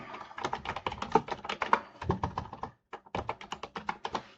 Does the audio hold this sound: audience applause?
no